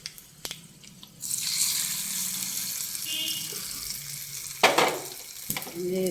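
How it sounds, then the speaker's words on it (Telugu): Tempering (talimpu) for a mango ginger pickle hits hot oil and sizzles loudly: a sudden burst of broadband hiss that carries on steadily, with a few sharp spoon or pan knocks near the end. "తాలింపు వేసేది."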